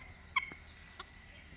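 A guinea fowl gives a short, sharp call, followed by a second fainter one about half a second later, over a quiet background.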